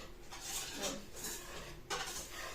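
A baby formula and condensed milk mixture is stirred in a bowl, giving soft, steady scraping and clinking that rises and falls in a few strokes. The sound is fairly faint, with a close room tone behind it.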